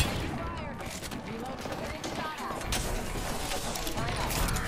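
Gunfire in the battle-royale shooter Apex Legends, a steady clatter of shots and mechanical clanks running under continuous talk from players throughout.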